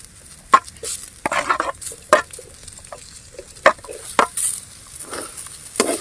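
Tomatoes sizzle in a pan with softened onions for a village-style crab curry, with spoon scrapes and stirring strokes coming in irregular bursts, close and fairly loud, with no voices.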